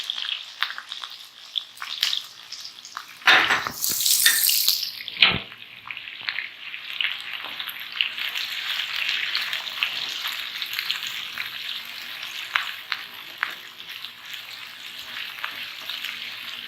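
Onions dropped into hot oil for keema kachnar, a loud burst of crackling as they hit the pan, then a steadier, fainter hiss of frying that carries on alone.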